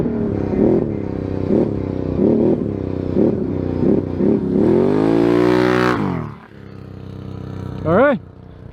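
A 2022 Ski-Doo Renegade XMR 1000R snowmobile fitted with an SLG exhaust revs in a series of quick, close, loud blips, then climbs into one long rising rev before dropping off, followed by a final short rev.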